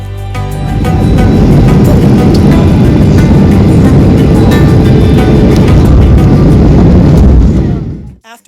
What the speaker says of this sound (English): here we go, landing in Miami.